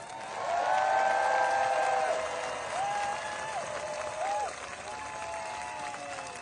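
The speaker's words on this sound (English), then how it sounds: "Please give a warm round of applause for Jessica Denson." Clapping from a rally crowd demanding Trump's resignation and conviction, loud at first then easing, with voices calling and talking over it throughout.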